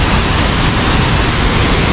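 Water rushing and falling at Kadiyanlena waterfall, a loud, continuous broadband roar with no pauses and no voices.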